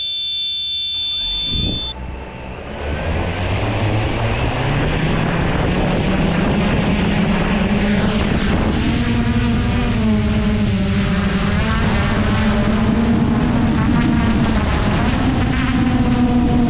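A Traxxas Aton drone spins up after a brief beep, then holds a loud, steady propeller buzz whose pitch wavers and rises as it flies, close and continuous with no talking.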